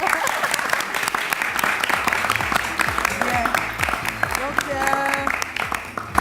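Audience applause at a World Women's Day event, a dense steady clapping that fills the whole stretch with voices and other sounds mixed in underneath.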